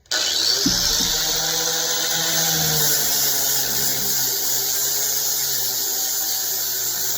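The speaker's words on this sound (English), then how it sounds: "I'm going to go ahead and grind this off and show y'all just kind of the difference" An electric grinder works down a steel knife blade in a knife-making shop. The motor spins up, then a loud, steady whine and abrasive hiss carry on without a break for the rest of the clip, with no talk.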